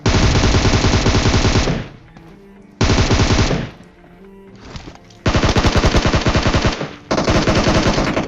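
Automatic gunfire in the PUBG Mobile video game, loud sustained bursts of rapid shots broken by brief quiet gaps, close and dominant with no talk over it.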